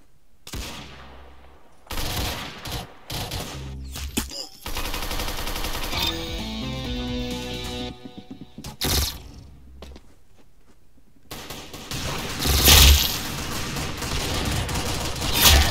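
Gunfire in a shooter video game: loud bursts of rapid shots broken by quieter gaps, closing in a dense, heavy volley.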